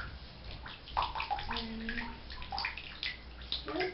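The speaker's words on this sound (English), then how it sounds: "I'm just washing the hedgehog." Water splashes and sloshes in a bathroom tub while a hedgehog is washed, with gentle gurgling, trickling and swishing close by, steady and fairly soft.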